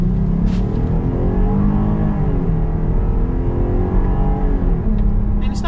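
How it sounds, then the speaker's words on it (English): A 2022 Jeep Grand Cherokee Overland V6 engine accelerating from inside the cabin, a loud steady drone rising in pitch through the gears with smooth shifts, road noise underneath. "Let's test the acceleration of this V6."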